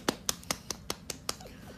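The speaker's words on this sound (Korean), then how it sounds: "박수." Hands clap seven times in a steady, evenly spaced rhythm, each clap a sharp, fairly close snap over quiet background noise, followed by a faint trailing sound.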